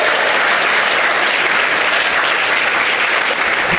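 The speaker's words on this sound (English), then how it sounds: "That deserves a clap." A large audience at a teaching conference claps loudly and steadily, a dense, unbroken wash of many hands with no voices standing out.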